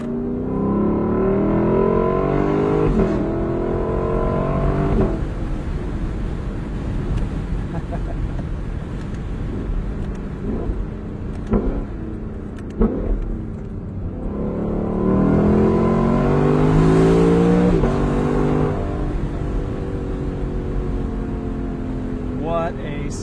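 A car's engine revs hard from a standstill with stability control switched off, its loud exhaust roaring in two long rising surges separated by a quieter, rumbling idle.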